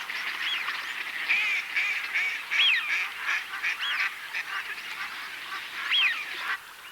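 Hawaiian nene geese and other waterfowl at a wildfowl reserve, repeated honking and quacking calls from several birds overlapping at moderate distance over a soft outdoor background.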